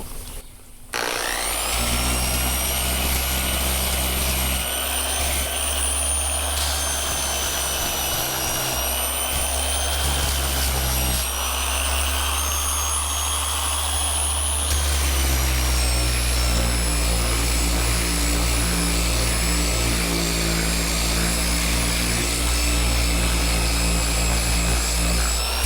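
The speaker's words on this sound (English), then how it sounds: "I just got some 80 grit on the DA. I'm just going around the edge." A dual-action sander fitted with 80 grit sandpaper works around the edge of a fiberglass rear speaker deck, a loud, continuous whirring drone with steady abrasive hiss that shifts pitch slightly partway through and never stops.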